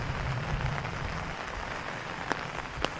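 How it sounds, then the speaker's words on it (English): Steady rain patters on surfaces in Stromovka Park in Prague, a dense, even hiss with a few sharper drips standing out, fairly close and moderately quiet. "You can really hear the rain nicely now."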